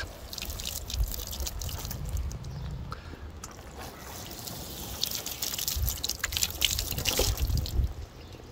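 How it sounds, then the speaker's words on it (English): Water pours and trickles over a convertible's fabric top treated with waterproofing spray, irregular splashes and drips in bursts, close and fairly soft, with no talking. "now we're going to pour some water on this side."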